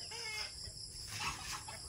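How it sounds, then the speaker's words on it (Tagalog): A hen clucks softly in a rural farmyard, a few short, faint calls in quick succession over quiet background, with no one speaking. "Bakit hindi ito makalabas ang manok?"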